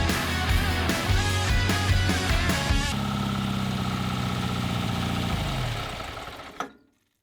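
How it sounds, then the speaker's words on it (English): Air-cooled engine of a 1961 VW Beach Buggy running with the exhaust removed, a loud raw mechanical clatter with rhythmic knocking pulses that settles into a steady idle before cutting off abruptly near the end. "Now, because the exhaust is off, there's a mandatory engine start."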